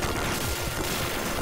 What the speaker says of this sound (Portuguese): E ele tá metendo bala.